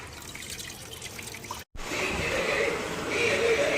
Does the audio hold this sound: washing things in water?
yes